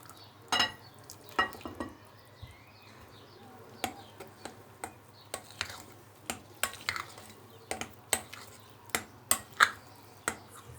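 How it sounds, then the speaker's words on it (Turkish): Red lentil batter with baking powder and salt is stirred in a bowl for a flourless lentil bread, giving faint, irregular sharp clicks and knocks of the utensil against the bowl. "tuzu katarak karıştırmaya devam ediyoruz"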